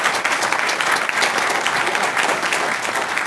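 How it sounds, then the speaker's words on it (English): Dense, steady applause fills a Portsmouth, Virginia city council meeting, continuous clapping from the audience with no break. "So I want to give a round of applause to these young ladies at Portsmouth Christian."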